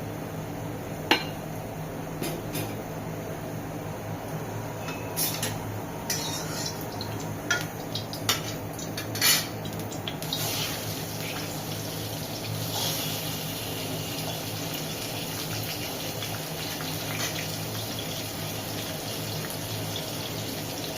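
Oil pours into a pan for frying a rohu fish head, giving a steady, continuous liquid hiss with a few scattered light clicks and taps near the start; no voice is heard.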